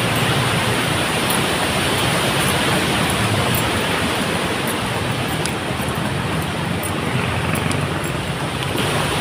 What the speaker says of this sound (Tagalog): Ang lakas ng hangin dito mga kamaster.